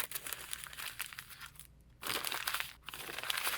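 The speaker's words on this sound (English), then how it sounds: "the crinkling of paper that's wrapped around the presents" Gift wrap paper crinkling around Christmas presents, close and crisp rustling in bursts with a brief quiet pause in the middle.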